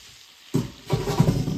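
Pasta noodles go into a hot pan with parsley. After a moment of near silence, a sudden sizzle bursts in and keeps crackling steadily up close, growing a little louder as the noodles settle.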